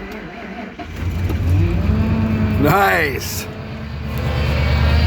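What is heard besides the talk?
old Ford truck engine starting in extreme cold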